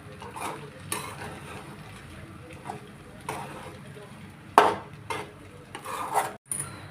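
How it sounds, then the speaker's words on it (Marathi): Soaked sabudana stirred with green chillies and oil in a pan, a spoon scraping and clinking in irregular close bursts, with no voice heard. "आपण हा साबुदाणा आता असा मिरचीमध्ये आणि तेलामध्ये चांगला परतून घेणार आहोत"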